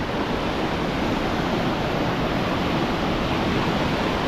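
A dense, constant roar of falling water fills everything, loud and steady with no pauses.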